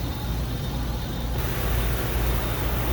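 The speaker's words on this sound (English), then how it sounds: "got a heater running behind me and a truck running in front of me." A 2001 Dodge Ram 1500 with a 360 V8 idles in a shop, a steady low rumble blended with the constant broadband hiss of a nearby heater, both loud and continuous throughout.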